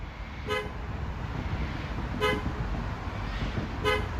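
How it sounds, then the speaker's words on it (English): A BYD car's horn, set off remotely from its phone app, sounds three short honks evenly spaced over a steady background hum, moderately near and alone with no voices. "So when you do that, it would honk 5 times, as well as flashes the indicator"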